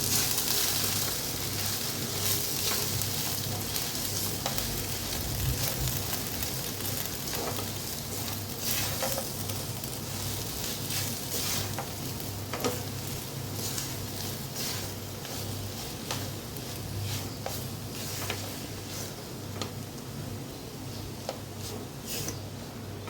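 Boiled noodles stirred and tossed through a sizzling pan for lemon coriander noodles: a continuous low fry with frequent light scraping and tapping from the stirring, fairly quiet and without talk.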